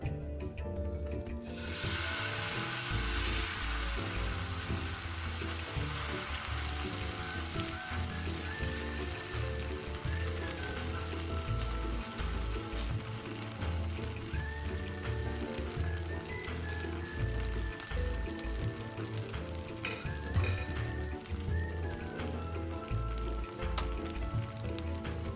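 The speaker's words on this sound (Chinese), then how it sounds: "记得中低火慢煎，加上适量的油。" Flour cake batter pan-frying slowly in oil over medium-low heat, a steady quiet sizzle and crackle that runs unbroken for the whole stretch, with faint scraping sounds and no voices.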